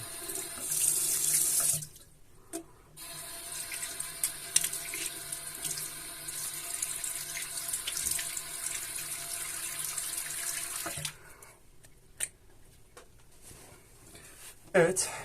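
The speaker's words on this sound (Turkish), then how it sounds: "yüzümü yıkadım." Tap water runs steadily into a bathroom sink while someone rinses their face after shaving, with a brief pause, splashes and handling noises and quiet speech partly over the flow.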